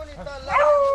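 A brief dog yip or bark rises near the end, with voices chattering around it in a short, busy moment during a rabbit hunt with greyhounds and beagles.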